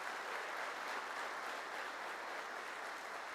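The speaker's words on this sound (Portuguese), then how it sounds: "Pode aplaudir Jesus pela vida dos visitantes." Congregation applause during a church service, a loud, even, sustained clapping from many people filling the room, with no voices heard over it.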